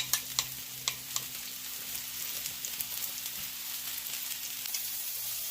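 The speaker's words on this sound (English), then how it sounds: "I put in some olive oil, and then I put in my mushrooms, make it sizzle." Steady sizzling of mushrooms frying in hot olive oil in a pan, with a few sharp clinks and stirring scrapes near the start, continuous and close.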